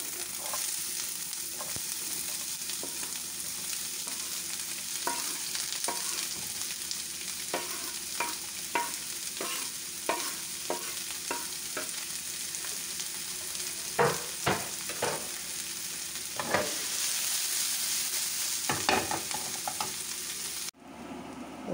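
Two medium chopped onions fry in a spoon of oil over a medium flame, a continuous close sizzle with frequent stirring clicks and scrapes against the pan, swelling louder for a stretch before cutting off abruptly at the end.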